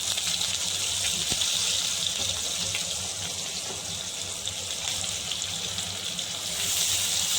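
Mustard seeds and finely chopped onions frying in hot oil for a prawn and gongura gravy, a steady, fairly loud hiss and sizzle that carries on throughout with no talking.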